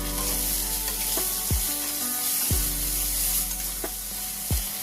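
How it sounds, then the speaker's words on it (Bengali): Spices for a cauliflower korma, including Kashmiri red chilli powder and sugar, are stirred and fried in a pan with a steady sizzle. A spoon scrapes it in repeated strokes, and there is no talking. "এই সবগুলো ভালো করে মিক্স করে নেব নাড়াচাড়া করে।"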